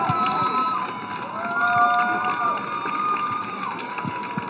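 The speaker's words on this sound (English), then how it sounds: "The crowd seems to have loved that one." A crowd at a girls' high school soccer state section final cheers and shouts after a keeper's save, a steady roar of mixed voices with a few whistle-like tones over it, sustained throughout.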